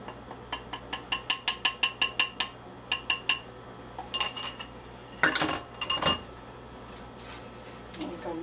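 A utensil clinks against a bowl while peach cobbler ingredients and flour are mixed, a quick run of regular metallic taps, then scattered clatters and scrapes, close and fairly quiet with no talk.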